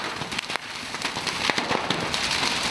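Fireworks crackle and pop in a dense, continuous barrage as a fireworks store burns in an Etobicoke strip mall, rapid sharp bursts layered over a roaring hiss.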